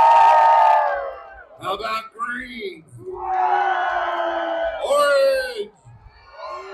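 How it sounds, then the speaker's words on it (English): Spectators at a county fair pig race cheer, whoop and yell together in loud bursts between an announcer's words. "Let's practice doing some cheering."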